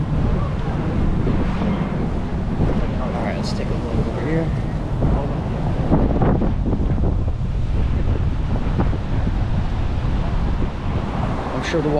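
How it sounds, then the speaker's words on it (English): Strong wind roars and buffets the microphone beside the ocean on a Florida shoreline, a steady loud rush with the wash of surf beneath it throughout. "it's so windy today"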